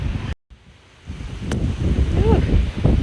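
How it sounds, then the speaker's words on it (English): Gusty outdoor wind buffeting the microphone on a windy day, a low rumbling roar that cuts out briefly then builds back up, with a faint high chirp or call in the background. "sorry about the wind"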